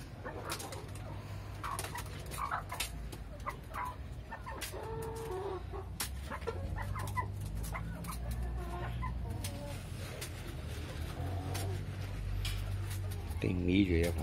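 Chickens clucking in a henhouse as leftover toast is tossed to them, busy fowl calls scattered over steady background noise, with people talking throughout.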